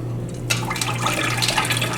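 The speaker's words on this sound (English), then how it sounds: "now I'm gonna rinse it some more" Tap water running and splashing into a bowl while homemade butter from raw cream is rinsed, a steady close trickle that grows busier halfway through, over a low electrical hum.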